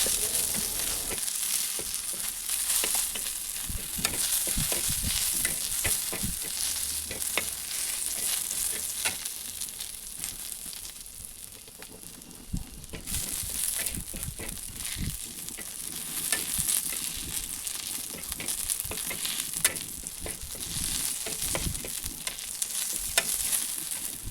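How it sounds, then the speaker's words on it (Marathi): Green chillies and large cloves of garlic sauté in a hot pan for an ambadi leaf chutney, a steady close sizzle broken by frequent scraping stirs, with a brief lull midway before the frying picks back up. "आता इथे मिरच्यांसोबत लसूण देखील परतून घ्यायचा"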